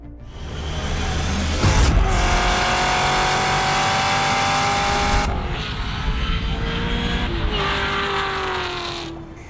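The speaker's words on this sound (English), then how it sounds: "The 2023 Chevrolet Camaro ZL1." A 2023 Chevrolet Camaro ZL1 muscle car drives past with a loud, sustained engine roar that climbs steadily in pitch through the gears, close and dominant for about ten seconds with no voices.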